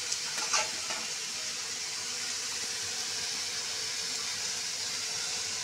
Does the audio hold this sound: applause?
no